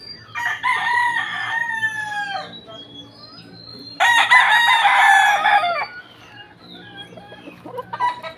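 Boston Roundhead gamefowl roosters at a gamefarm let out two loud, close crows, with a fainter crow answering in the distance and low clucking between the calls.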